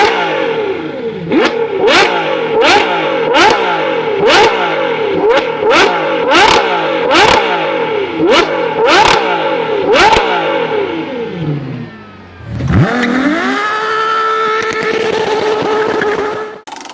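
A Ferrari 812 Superfast V12 revs hard again and again, about a dozen sharp rising blips in a steady rhythm, then a lower roar that climbs and holds steady, loud and close.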